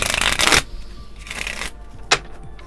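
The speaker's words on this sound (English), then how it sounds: "I always want to shuffle in front of you guys." A deck of tarot-style reading cards is shuffled by hand in two quick riffling bursts, followed by a single soft tap as the cards settle, close and fairly loud with no talking.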